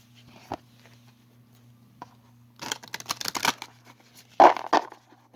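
Two quick bursts of oracle cards being riffled and shuffled, close up, over a low steady electrical hum with a few faint taps.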